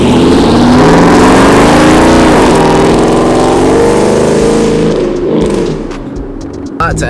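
A Ford F150 pickup fitted with a Borla Atak exhaust and catted Y-pipe revs hard, a loud, steady engine roar that holds for several seconds before easing off, with a voice talking over it.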